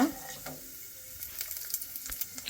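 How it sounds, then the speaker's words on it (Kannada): Onions hitting a hot pan for tomato chutney give a soft, steady sizzle with scattered crackles and pops, fairly faint and close. "ಇದಾದಮೇಲೆ ಆನಿಯನ್ ಹಾಕ್ತೀನಿ"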